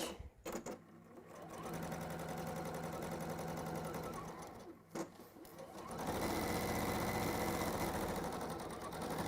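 A sewing machine stitches a straight seam, its rapid steady whir starting and stopping in two long runs with a brief pause between, close and alone.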